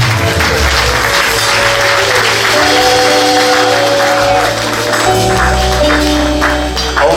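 A church congregation at a pastoral consecration ceremony gives loud, sustained applause that fills the room throughout. Steady musical tones sound underneath the clapping.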